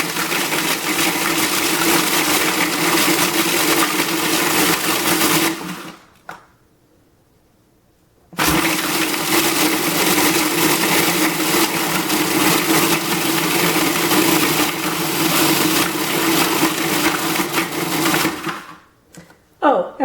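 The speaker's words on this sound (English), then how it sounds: "I'm getting hit by cookie crumbs that are flying out of my food processor." Food processor grinding cookies into crumbs, a loud steady whirring motor drone that runs, stops for a couple of seconds, then runs again before cutting off.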